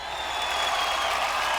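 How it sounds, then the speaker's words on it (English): A large event crowd for NTR Jr. at the RRR gathering breaks into sustained applause and cheering, a dense, steady wash of clapping and voices that holds loud and even throughout. "Ladies and gentlemen, a huge cheer. Let's roar for NTR Jr."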